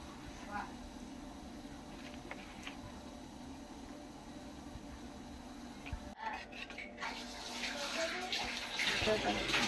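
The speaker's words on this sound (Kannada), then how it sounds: "ಹಿಟ್ಟನ್ನ ಒಂದು ಬೌಲಿ ಸೇರ್ಕೊಂಡ್ಬಿಟ್ಟು ಇದನ್ನು ನೋಡಿ ನೀರು ಹಾಕಿಬಿಟ್ಟು ನೀಟಾಗಿ ಕಲಿಸ್ಕೋಬೇಕು" Finger millet (ragi) flour is worked with water in a bowl, giving quiet wet squelching and stirring sounds that grow busier toward the end, with faint talk in the background.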